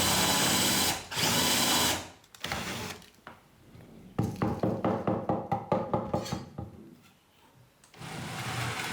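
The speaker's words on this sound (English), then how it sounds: "I use a hand drill with a 12mm bit to open the exit hole." A hand drill with a 12mm bit whirs in long bursts, then grinds in a rapid series of rhythmic pulses as it bites into bamboo, loud and close.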